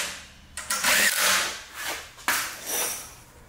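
Power driver spinning screws in to attach a part on a small engine, two short whirring bursts with ratcheting clicks, close and loud.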